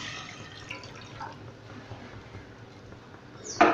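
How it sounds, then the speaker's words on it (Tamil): Two cups of water heating in a pot on a stove for rava kesari, giving a faint, steady hiss with small scattered bubbling pops close by, and a sharper click at the end. "இப்போ தண்ணி நல்லா கொதிக்க ஆரம்பிச்சிருச்சு."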